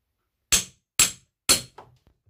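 Three sharp, evenly spaced hammer blows ring out on a wooden pallet being dismantled, each crack loud and close, followed by a fainter knock and a few small rattles.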